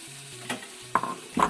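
Tomatoes sautéing with masala in a pan for meat rice, a soft sizzle under a few short scraping stirs of a spoon, close and quiet.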